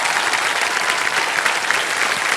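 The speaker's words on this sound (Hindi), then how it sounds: "इसलिए जोर से तालियां बजाना।" Studio audience of the KBC game show applauding loudly, a dense continuous burst of clapping with no talk over it.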